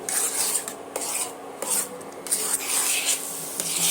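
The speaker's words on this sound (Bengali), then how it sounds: "আমি এবারে অনবরত নাড়তে থাকব এইভাবে দেখতে পাবেন বন্ধুরা নাড়তে নাড়তে আমার সুজিটা অনেকটা শুকিয়ে যাবে" Dry semolina (suji) stirred without pause in a pan for halwa, a steady close scraping and rasping with rhythmic strokes and no talk.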